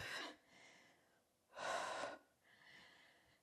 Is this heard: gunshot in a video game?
no